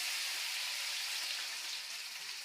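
Onions, curry leaves, tomato and green chillies hit hot oil together, giving a steady, loud, close hiss of frying that holds evenly throughout with no talk over it.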